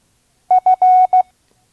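One Morse letter F at a slow 5 words per minute, a pure tone beeping dit-dit-dah-dit, clear and close with silence before and after.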